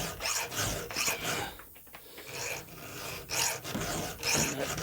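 A hand file sharpens a chainsaw chain tooth on a Husqvarna 365 X-Torque, rasping in close, steady strokes of about half a second each with a brief pause midway.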